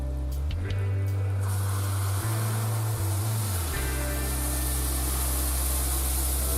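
Cream and butter poured slowly into hot caramel in a pan, giving a steady hissing sizzle and bubbling with a low droning hum underneath, close and continuous.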